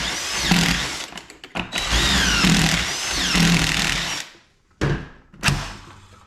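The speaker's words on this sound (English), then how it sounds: "I'm just going to eyeball it, pop 2 screws in it" Power drill driving screws into a wooden farmhouse desk, a few whirring bursts of the motor up close, pausing between screws with brief clunks of handling.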